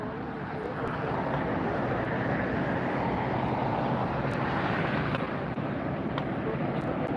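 A Condor widebody airliner in beige beach livery roars steadily at LAX, a broad, constant jet noise that stays loud and even throughout with no break.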